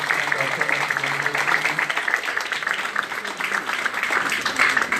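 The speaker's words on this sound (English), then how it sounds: "So let's give another round of applause for Professor Carroll Robinson, Chang Chiu," Applause from an audience at a Houston census community forum, a dense, steady clatter of many hands lasting throughout, fairly loud and continuous with no clear speech over it.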